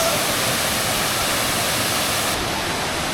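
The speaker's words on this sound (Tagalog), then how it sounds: "Ang ganda ng falls, oh." A loud, unbroken roar of a waterfall at a resort in Majayjay, Laguna, Philippines fills the scene, steady and close, with no voices over it.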